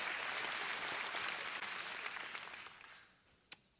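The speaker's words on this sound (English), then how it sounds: "Oh, you got a clap." Church congregation clapping at a Palm Sunday service, a dense broadband wash of applause that steadily fades out, ending with one sharp clap near the end.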